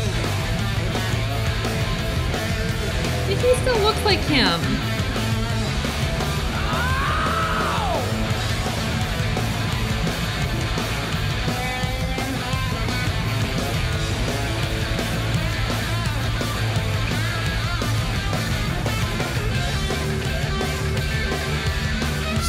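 Live rock concert audio of a band performing a rock song, with a distorted electric guitar solo over loud band and crowd noise, steady and dense throughout, and a brief voice speaking over it.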